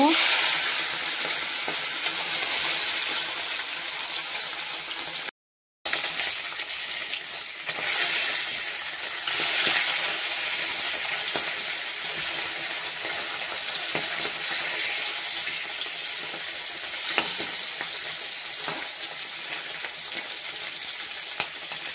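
Gule and bata fish fry in hot oil with a loud, steady sizzle and crackle that carries on close up, broken by one brief gap and occasional clinks.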